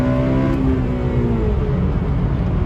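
A 2008 Honda Civic Mugen Si accelerating on a test drive after a transmission fluid change, its engine note rising steadily in pitch as it revs, close and loud with a continuous road rumble underneath.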